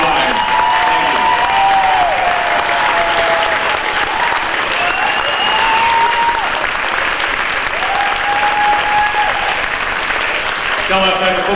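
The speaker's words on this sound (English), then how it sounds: "stand up and give her a round of applause" Loud, sustained applause from an audience at a hall of fame ceremony, dense clapping throughout with faint voices and cheering mixed in.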